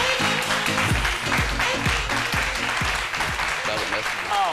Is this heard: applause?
yes